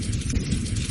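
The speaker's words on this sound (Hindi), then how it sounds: "तभी तेज बिजली चमकती है और मूसलाधार बारिश शुरू हो जाती है।" A heavy cartoon downpour roars as a dense, constant hiss of rain, loud and close with a faint low rumble beneath, and no talking.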